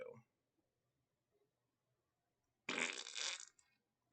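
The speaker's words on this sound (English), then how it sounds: "Fart?" A short, loud fart sound bursts in after near silence, a raspy, buzzing blast lasting under a second, close and alone, preceded by a brief trailing bit of voice.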